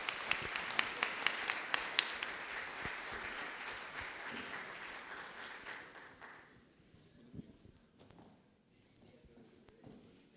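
Seminar audience applause for two panelists at a circular economy event in Ecuador, moderately loud clapping for several seconds that thins and fades out, followed by quieter room sound and scattered claps.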